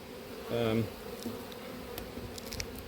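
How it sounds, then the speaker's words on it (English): Honey bees humming around an opened hive at an apiary in swarming season, a continuous close buzz with a louder drone passing briefly near the start. "let these bees calm down a little bit"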